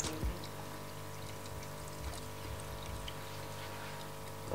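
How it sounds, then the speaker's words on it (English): Coconut milk mixture poured into a cooking pot makes a faint, steady liquid pour beneath a constant low background hum, with no talk. "I'm gonna just pour everything into the pot."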